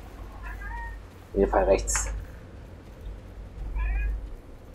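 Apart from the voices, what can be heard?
cat meowing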